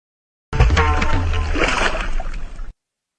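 Water poured over a roadside stone idol of the deity Mhasoba splashes loudly and close for about two seconds, a continuous sloshing spatter that starts abruptly and cuts off just as suddenly.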